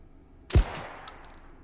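A suppressed M1014 shotgun fires a single flechette round through plywood: one sharp, close muffled blast followed by a short fading tail and a faint later clatter.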